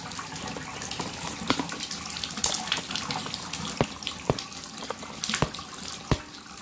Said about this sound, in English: I'm gonna put hot water.